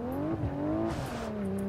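A diesel V8 BMW X5 accelerating hard in BeamNG Drive, the engine droning with rising and falling harmonic tone as it revs, loud and close with a brief tire squeal.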